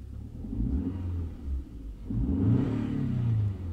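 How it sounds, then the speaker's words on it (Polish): A cold 2002 Audi A4 B6 sedan with a 2.0 petrol MPI engine is blipped twice, each rev rising from a low idle rumble into a throaty mid-range surge before falling back, heard close up without talk. "No, chciałeś, żebym przygazował"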